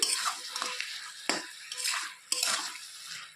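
Lentil dumplings and spinach with potato, aubergine and tomato are stirred in a pan over low gas, a spoon scraping in repeated strokes through soft sizzling, close and clear.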